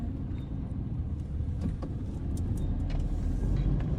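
Steady rush-hour street traffic at a busy crossing, with car engines and tyre noise forming a continuous close rumble and a few faint higher passing whooshes and clatters on top.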